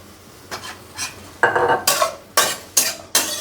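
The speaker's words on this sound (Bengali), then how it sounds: "পেঁয়াজটা একটু সরিষার তেলে ভেজে নেব" Onions frying in mustard oil in a pan, with a soft sizzle under a series of sharp scraping stirs that grow louder and come roughly every half second.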